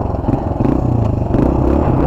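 A rough, uneven engine idle, close and loud, with a lumpy pulsing throb and some mechanical clatter, running steadily without a break.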